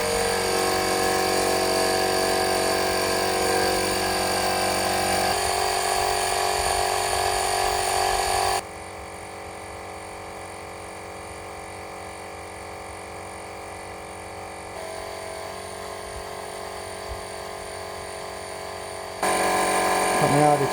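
An electric ball pump runs steadily, pressurizing a Duramax pickup's gas tank up to 12 psi; its loud continuous motor whine changes pitch midway, drops quieter, then returns louder near the end.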